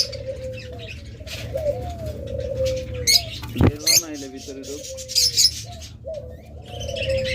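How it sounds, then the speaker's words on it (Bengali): Pair of red-eyed lovebirds with red heads in a bird market, close chirps and short calls over steady background hum, with a sharp flutter and brief wing noise midway. "এই জোড়া লাভবার একদম red head red eye of line"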